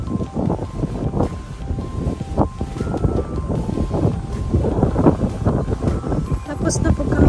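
Strong, cold wind blows outdoors near a parking area, a steady broadband rush with gusts and microphone buffeting that run throughout, while a voice talks over it.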